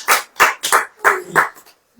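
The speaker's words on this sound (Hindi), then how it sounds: "ताली बजाइए कुछ।" A church congregation claps hands in five or six loud, quick bursts, fairly regular, fading out at the end with a hint of voice.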